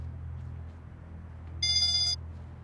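A telephone rings once in a short electronic bell burst over a low, steady background hum, with no one talking.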